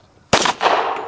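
A single sharp gunshot cracks loud and close at a Wild Bunch cowboy action shooting match, with a second burst of noisy rumble and echo trailing after it.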